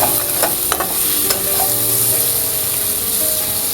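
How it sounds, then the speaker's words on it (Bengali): Fish pieces being stirred in a frying pan with ginger and garlic paste, a steady loud sizzle with scraping strokes of a spatula throughout. "মাছগুলো আবার ভালোভাবে একটু নেড়ে চেড়ে নেব"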